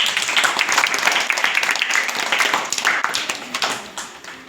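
A group of children and adults clap together at a school arts festival after a children's song, steady close applause with quick overlapping claps tapering off toward the end.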